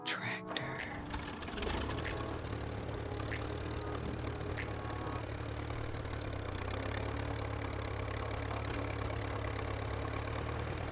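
Tractor engine in the Teardown video game starts with a few clattering knocks, then settles into a steady, close, low idling chug that runs on evenly, with occasional sharp clicks.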